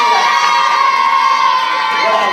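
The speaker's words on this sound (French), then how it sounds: "je vous demande de les applaudir également" A French aquatic show audience cheering continuously, a dense, loud crowd roar with shouts and whoops, likely with applause mixed in, sustained without pause throughout.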